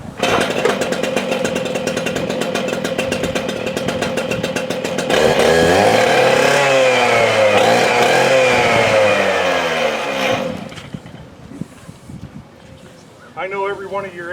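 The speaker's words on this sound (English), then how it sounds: "This is our only fuel injected cutoff machine this year." A fuel-injected gas-powered cutoff saw runs steadily with the throttle locked, giving a loud, buzzing two-stroke drone that rises in pitch partway through and then cuts out, while someone talks over it.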